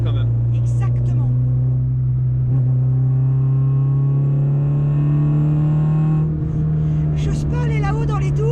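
A Renault Clio 2 RS2 engine drones steadily from inside the car, its pitch rising slowly under load, with people talking over the sustained engine note.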